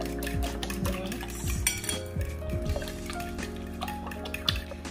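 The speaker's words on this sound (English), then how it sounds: "Make sure the cinnamon is mixed." A utensil stirring egg mixture with cinnamon in a bowl for French toast, producing repeated close clinks and scraping taps against the bowl in an uneven, busy rhythm.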